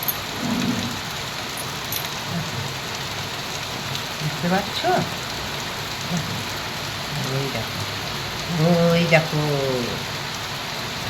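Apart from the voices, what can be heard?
heavy downpour rain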